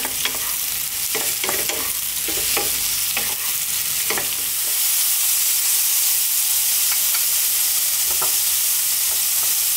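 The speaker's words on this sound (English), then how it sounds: "we're gonna be adding our mushrooms" Fresh white mushrooms fry on full heat, a bright, steady sizzle and hiss with repeated spoon scrapes and stirring clacks in the pan, close and without talk.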